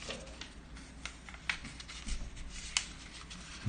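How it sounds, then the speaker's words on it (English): Origami paper is unfolded and creased the other way, giving soft, close crinkles and papery rustles with a few sharper crackles. The sound is quiet and nobody speaks. "Next, what we're going to do is unfold it and fold it the other way."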